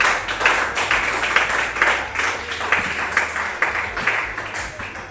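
A church congregation at a prayer marathon claps together in a fast, steady rhythm, dense and fairly loud, with faint voices mixed in.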